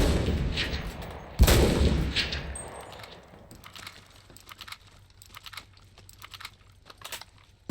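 Sniper rifle firing in a video game: one loud, sharp shot near the start with a booming tail, followed by quieter clicking and rattling handling sounds.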